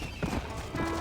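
Horse hooves clip-clopping in Red Dead Redemption near a ranch stable, a short run of steady close hoofbeats over outdoor game ambience.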